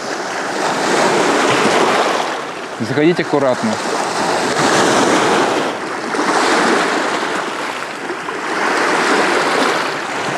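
Small waves wash steadily onto a Black Sea beach at Anapa in a continuous surf roar with wind noise, and a person speaks briefly partway through.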